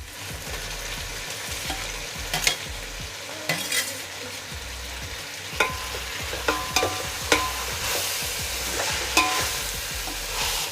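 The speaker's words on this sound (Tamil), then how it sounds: "நல்லா இந்த பச்சை வாசனை போகிற அளவுக்கு வதக்கிக்குங்க." Onion, ginger and garlic sautéing in a pan for chicken biryani, a steady close sizzle broken by repeated scraping stirs and spoon knocks, with no voices.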